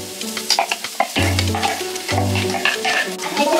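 Garlic and oyster mushrooms frying in a pan for a vegan dish, a close, busy sizzle with repeated scraping stirs and a low steady hum beneath.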